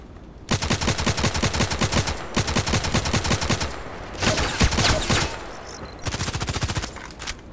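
Bursts of rapid gunfire from the online shooter Contract Wars, in a bridge map played at long range, several sustained volleys with short pauses, loud and near, without talk.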